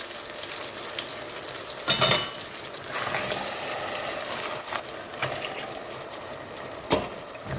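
Ground spice paste for mutton paya sizzles and fries steadily in a hot pan, with occasional louder stirring scrapes and splatters.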